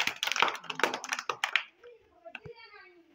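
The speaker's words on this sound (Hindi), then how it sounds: "देखिए केपी के लिए भी तालियां बजाइए जोर से सभी बच्चे।" Children clap in a classroom in rapid, uneven bursts that fade out, followed by a few softer scattered sounds and a brief tap.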